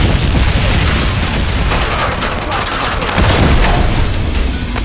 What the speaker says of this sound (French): Attention, grenade, grenade.